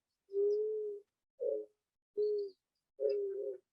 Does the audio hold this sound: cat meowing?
no